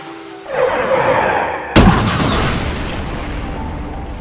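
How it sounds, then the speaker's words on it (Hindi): A speeding truck slams into a car, a single loud, close impact boom that cuts into a steady rumbling background and leaves a long noisy tail fading behind it. "लेकिन उसी समय तेज रफ्तार ट्रक ने उसकी कार को बुरी तरह टक्कर मार दी।"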